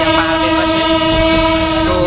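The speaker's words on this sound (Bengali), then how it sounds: "তো আমরা ট্রেনে যাই" A passenger train on a journey through the Nikli haor region runs close by, a loud sustained horn tone with steady rumbling rail noise underneath, and no one speaking.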